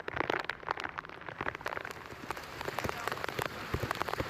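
Heavy rain pouring down in Dwarka, drumming densely and loudly on surfaces with constant close spatters and splashes, with no letup throughout.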